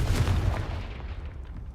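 A Confringo explosion spell in Hogwarts Legacy, a short booming blast with rumbling low-end that decays quickly.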